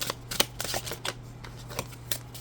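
Tarot cards being riffled and shuffled by hand in a quick series of crisp, papery bursts and flutters, heard up close with no talking.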